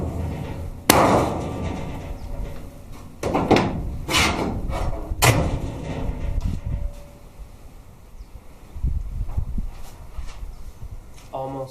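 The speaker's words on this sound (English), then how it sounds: "I'm just going to continue to hit it, trying to force out that arch a little bit" A car body panel with welding shrinkage is hammered to force out its arch. Several sharp metallic blows ring out close up in an irregular rhythm, followed by quieter tapping, with a voice talking at times.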